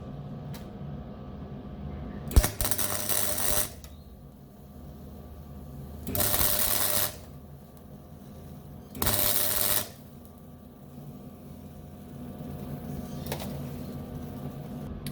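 An amateur MIG welding a seam: three short bursts of harsh, crackling buzz, each about a second long, separated by quieter stretches of low room noise.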